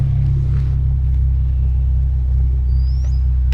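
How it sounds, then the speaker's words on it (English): A car's exhaust rumbles at idle, a deep, steady low drone close by, with a faint high squeal briefly appearing. "You can hear the exhaust and everything."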